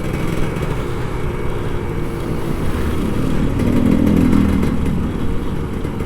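An older Kawasaki Ninja RR 150 motorcycle is ridden at night on Jakarta streets, its engine droning steadily with a slight swell midway, wrapped in steady wind and road noise.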